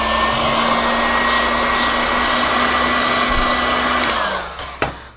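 A heat gun blows hot air onto a paramotor engine crankcase during crankshaft bearing replacement on a Vittorazi Moster plus, a loud steady whirring roar with a constant tone that winds down and clicks off near the end.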